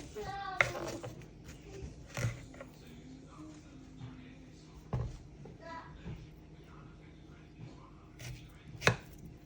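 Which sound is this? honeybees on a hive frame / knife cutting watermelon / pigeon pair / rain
knife cutting watermelon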